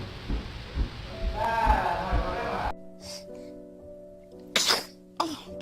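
After a stretch of soft adult chatter and background noise, a baby gives two quick, sharp sneezes close to the microphone, separated by a short, quiet, hum-filled pause.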